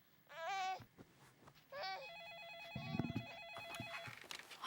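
A phone rings with a warbling electronic tone in repeated bursts, nearby and fairly loud, with faint background noise between rings.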